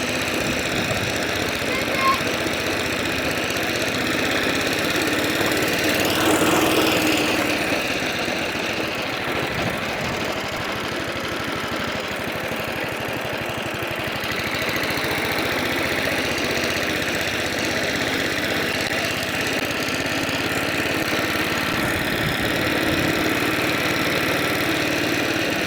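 An old cylinder lawn mower engine, unstarted for four years, idles steadily and loudly throughout with a constant rough drone and slight knocking, holding an even level with a brief swell partway through.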